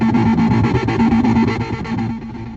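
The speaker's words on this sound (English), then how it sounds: "track 8 on the album is this like really harsh noise, industrial epic that's 13 minutes long" Harsh industrial noise track blaring from a car CD player: a dense, grinding wall of distorted sound with a droning low hum, loud and continuous, no voices.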